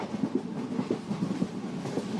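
A train rolls along steadily, its wheels giving a soft, repeated clickety-clack over the rail joints beneath a continuous low rumble, heard alone at moderate loudness.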